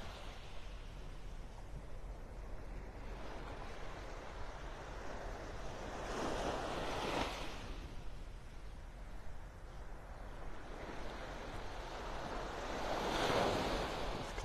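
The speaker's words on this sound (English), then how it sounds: "Not too rough here, a few little waves rolling up onto the shore." Small ocean waves roll onto a beach shore in North Naples, Florida, on an early morning with storm clouds, giving a soft, continuous wash with two gentle surges of breaking surf and some wind noise.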